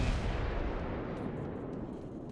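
Heavy main-battery salvo from the battleship Montana in World of Warships, a loud booming blast fired at an enemy Zao that rolls and fades into a long rumbling tail, with no voices.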